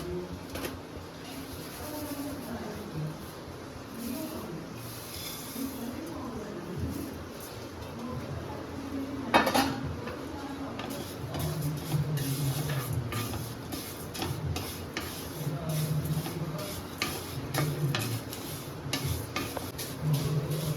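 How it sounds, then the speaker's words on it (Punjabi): Vermicelli roasts in desi ghee in a pan as a utensil stirs it, giving steady soft sizzling with repeated scraping and clinking strokes, close by, while a voice talks at times. "ਇੱਧਰ ਆਪਾਂ ਹੁਣ ਦੇਸੀ ਘਿਓ ਪਾ ਲਿਆ ਹੁਣ ਇਹਦੇ ਵਿੱਚ ਪਾ ਦਾਂਗੇ ਜੀ ਆਪਣੇ ਭੁੱਜੀਆਂ ਹੋਈਆਂ ਸੇਵੀਆਂ"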